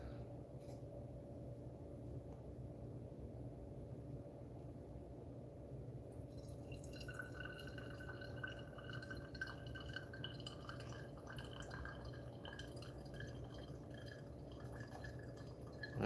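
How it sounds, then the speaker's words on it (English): Brewed coffee from Colombian beans drains through a pour-over brewer into a glass vessel, first as a quiet hiss, then as a quick run of bright, close drips over a steady low background hum. "we're going to pour the first dose, which is 80 grams, and then let it fully drain out"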